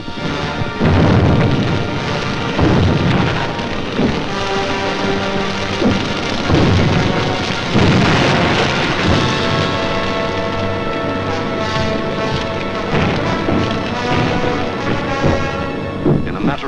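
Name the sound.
firebomb explosions during the bombing of London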